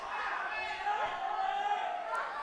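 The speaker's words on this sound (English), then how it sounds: "Crowd really is up on their feet." Stadium crowd at a football semifinal second leg, Davao Aguilas UMak FC versus Dynamic Herb, shouting and roaring steadily for the whole stretch with a broad, dense wash of many voices, with no single voice picked out.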